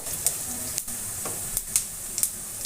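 Panch phoron spices sizzling in hot oil for a cabbage dish, a steady close hiss with a few sharp crackling pops and light stirring scrapes.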